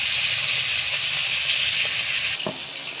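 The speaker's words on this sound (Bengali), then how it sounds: "আর নুন হলুদ মাখিয়ে মাছটা ভাজা বসিয়ে দিয়েছি" Fish rubbed with salt and turmeric frying in a pan, a loud close bright sizzle and hiss that holds steady, then drops sharply near the end after a brief knock.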